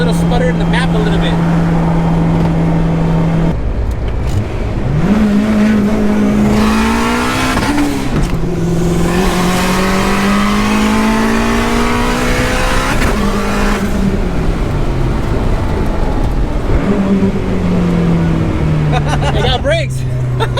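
A turbocharged 1990 Honda Civic wagon engine revs up and down repeatedly, loud and close, with a rough uneven sputtering note, under a person talking over it.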